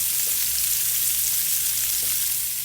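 Salmon fillets searing in hot oil in a pan, a steady, loud, close sizzle with faint pops and no talking.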